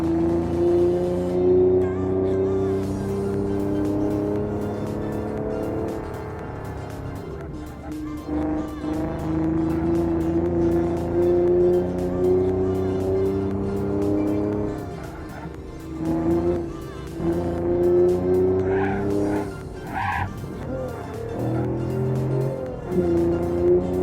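A car driven in the BeamNG Drive video game, its engine droning steadily at mid revs with shifts up and down and gear changes, loud and continuous, with brief louder bursts near the end.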